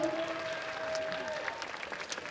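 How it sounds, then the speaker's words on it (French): Applause from a cosplay contest audience at a Japanese culture convention, greeting a Porco Rosso costume entrant; a steady, fairly soft wash of clapping with a faint tonal line at the start. "je vous demande de faire un tonnerre d'applaudissements pour ce cochon"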